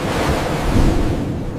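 Ocean waves churned by a fast-moving warship, a loud, steady wash of rushing water and wind noise with no pauses or voices.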